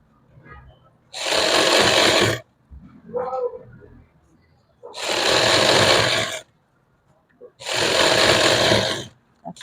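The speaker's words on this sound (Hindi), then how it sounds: "इस तरह से हम सीधी सिलाई लगाएंगे।" Sewing machine running a straight seam along the border of a simple suit, three long loud bursts of steady stitching with short pauses between, faint handling noises in the gaps.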